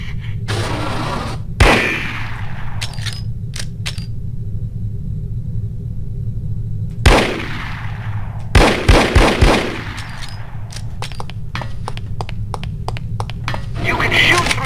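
Gunfire rings out in the shooter game The Operative: No One Lives Forever, several sharp single shots and a quick burst of rapid rounds over a low rumbling background.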